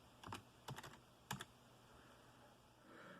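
Fingers tap a few quick keystrokes on a Lenovo ThinkCentre M53 computer keyboard, three small clusters of quiet clicks close by, followed by faint room hush.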